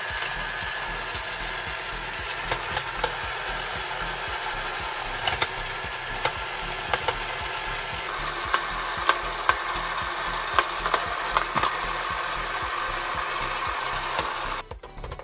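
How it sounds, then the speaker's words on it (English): A 1980s Armatron toy robot arm's motor runs steadily throughout with a continuous mechanical whir and faint periodic clicks, ending with a brief louder rattle. "Alright, so the motor's working."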